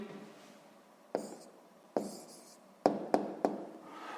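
Pen strokes on paper while a maths answer is written down for a sixth-grade exercise, a handful of short scratchy taps and strokes spaced out over a quiet room, close and fairly soft.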